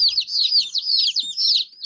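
Newly arrived chicks on a homestead peeping in a brooder box, a rapid run of high, shrill chirps in quick rising and falling bursts, close and clear with almost no background.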